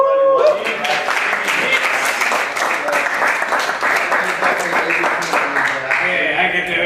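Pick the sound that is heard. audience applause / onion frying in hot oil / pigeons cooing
audience applause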